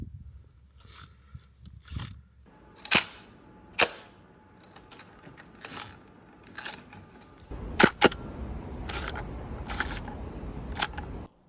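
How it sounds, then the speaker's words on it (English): Repeated mechanical clacks of a Hasselblad 500 C/M camera shutter firing, several sharp, close shots spaced a second or two apart with faint handling noise between them and no talking. "do I get tired of the shutter sound?"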